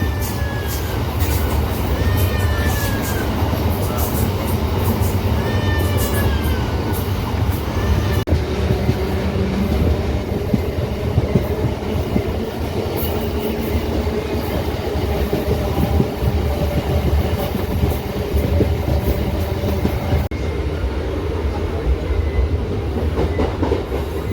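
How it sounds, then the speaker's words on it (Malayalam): A small train rolls along steadily with continuous rumbling and rhythmic clacking of wheels, punctuated by brief squeals, loud and close throughout. "ചെറിയ ട്രെയിന്."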